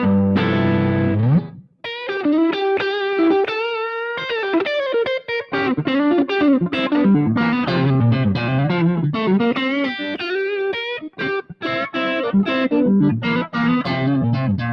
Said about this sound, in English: I'm going through a King of Blues pedal by Tone City